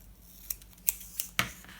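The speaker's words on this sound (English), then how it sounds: "Prepare to cut the corners a little bit from the middle" Scissors snipping the corners off cardboard box pieces for an industrial-style box, four crisp close cuts in an uneven rhythm about a third of a second apart, with no talking.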